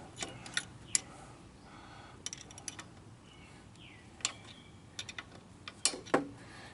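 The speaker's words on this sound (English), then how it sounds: "I'm using the wrench again." A ratchet wrench clicks in short, irregular bursts while tightening parts on a 110cc quad engine. The crisp ticks stand out close against a quiet background hiss.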